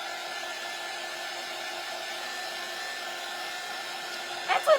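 A hair dryer blows steadily on freshly painted yellow acrylic on a craft door hanger, a constant close whirring drone with a brief bump of handling noise at the very end.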